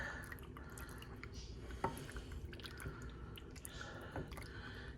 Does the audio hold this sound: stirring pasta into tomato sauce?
yes